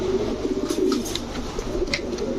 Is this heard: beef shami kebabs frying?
no